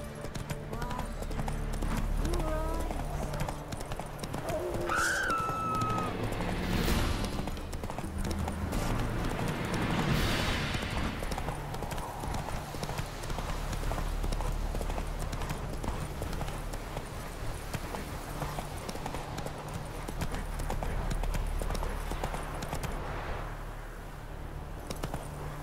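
Horse hooves clip-clop steadily through a long run in The Witcher 3 video game, loud and continuous over game music, with a brief whinny partway through and no speech.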